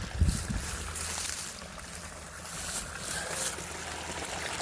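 Floodwater rolls along a pre-cut ditch toward a duck pond in a duck impoundment, a steady broadband rush with a faint low rumble at the start, outdoors and continuous.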